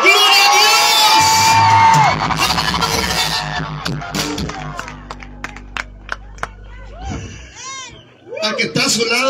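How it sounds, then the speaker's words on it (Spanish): A church crowd at a live Christian worship event in Mexicali shouts and cheers glory to God in a loud burst of voices, whoops and clapping that rises, dips into scattered shouts, then swells again. "¿Cuántos pueden gritar un fuerte gloria a Dios?"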